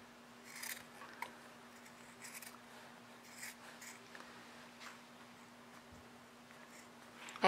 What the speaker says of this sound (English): So I'm cutting my seam.